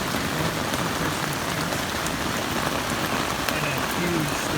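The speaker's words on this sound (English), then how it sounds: "this is an incredibly strong rainstorm I'm in right now" Heavy rain pounds steadily on a NEMO Hornet 2-person tent (2019 version) during a strong rainstorm, a dense, unbroken roar of drops close overhead.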